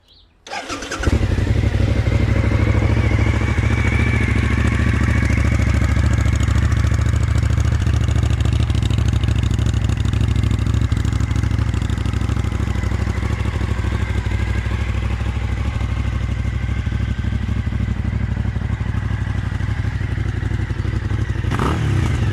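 A Suzuki SV1000 motorcycle cranks and fires up, its V-twin engine settling into a steady, loud, close idle that runs on for about twenty seconds with a throbbing, lumpy rumble.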